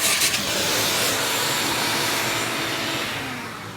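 A vacuum steadily sucking ash out of a Harmon pellet stove burn pot, a loud, close, continuous broadband roar that holds steady and then fades slightly toward the end.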